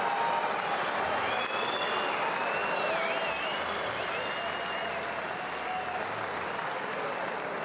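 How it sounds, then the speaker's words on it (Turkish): A large boxing crowd roars in a continuous, steady wash of noise after a heavy punch, with thin whistles rising and falling above it. "Seyirciden çıkan uğultuyu duymuşsunuzdur"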